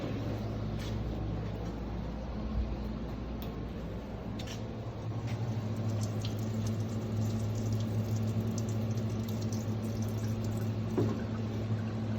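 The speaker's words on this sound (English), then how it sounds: "I'm going to clean this with parts washer real quick." A motorcycle part from a 2021 Yamaha YZ125 is washed in a parts washer, giving a steady pump hum and continuous running, splashing fluid with scattered small clinks, all at low level and with no talking.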